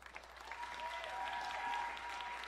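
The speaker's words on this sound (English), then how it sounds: "Let's give a big round of applause." Applause at a live event called INTO ACTION: Together We Rise, fairly faint and distant, a steady wash of many hands clapping that swells slightly and holds through the moment.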